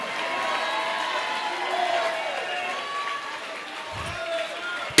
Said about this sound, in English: Give the biggest hand clap and shout.